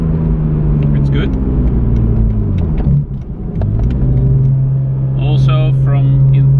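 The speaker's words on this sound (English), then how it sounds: "from the low revs, accelerating is much more responsive." A race car on the Nürburgring accelerates in third gear from low revs, the engine note climbing steadily with a loud, close in-cabin rumble, a brief dip mid-way, then pulling on strongly.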